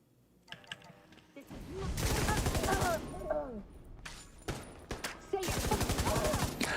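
Light machine gun fire rattles in rapid bursts in The Division video game, loud and sustained with brief gaps between long volleys, alongside spoken commentary.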